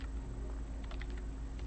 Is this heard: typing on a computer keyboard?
yes